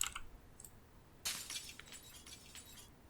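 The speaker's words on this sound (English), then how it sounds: "Removing broken glass will also kind of create some noise" Broken glass being cleared from a window frame in the Project Zomboid survival game, a faint clink at the start followed by a louder burst of crunching, scraping shards that trails off into scattered tinkling.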